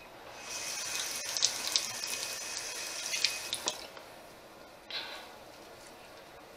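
A running tap wets a makeup remover wipe in a bathroom sink, a soft, steady splashing stream for several seconds that stops, followed by a few faint drips and handling sounds.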